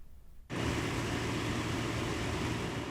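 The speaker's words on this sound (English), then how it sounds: "That is the sound of a dehumidifier" A steady, loud whooshing drone of a dehumidifier switches on after a brief quiet moment and keeps running evenly.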